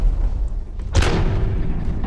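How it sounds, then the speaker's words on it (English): A grenade launcher fires in the mech shooter Hawken, one loud booming blast with a sharp broadband crack and a rumbling tail that lingers over steady low game noise. "I love that grenade launcher though."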